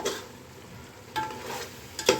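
Food for donne chicken biryani sizzles softly in a pan as a utensil scrapes and stirs it, with a few louder clinks against the pan.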